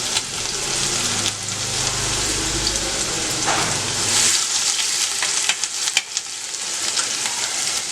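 Chopped onion and coarsely crushed garlic fry in hot oil for Malwa-style arhar dal, a steady close sizzle with stirring scrapes and small pops throughout, no voices.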